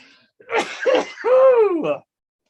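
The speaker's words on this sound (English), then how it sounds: "I got to sneeze." A single close, loud human sneeze with a sharp intake and a drawn-out voiced burst, alone and brief in a quiet room.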